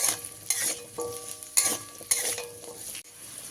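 Chopped carrots frying in hot oil in a pan with occasional stirring, a steady soft sizzle broken by a few scrapes and clinks of a spatula against the cookware.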